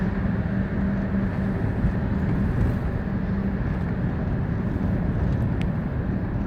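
Car accelerating in gear along a tunnel road, a loud steady engine and road roar filling the space throughout, without talk.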